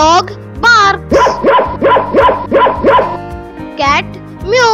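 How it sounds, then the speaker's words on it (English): A run of about six sharp dog barks in quick, even succession, loud and close, with short bits of speech at the start and end. "Dog barks."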